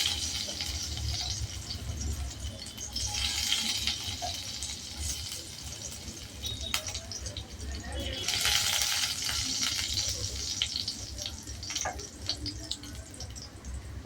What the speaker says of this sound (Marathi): त्याच्यात आपण बारीक चिरलेला लसूण घालायचा आहे।